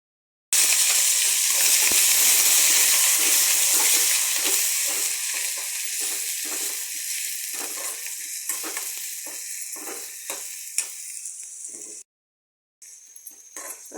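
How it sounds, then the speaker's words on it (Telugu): Crushed red onions hit hot oil and fry in a loud, steady sizzle, with faint stirring scrapes and a brief break near the end; no one speaks. "ముందుగా బాగా దంచి పెట్టుకున్న ఎర్రగడ్డ అయితే ఆయిల్లోకి వేసుకుంటున్నాను చూడండి"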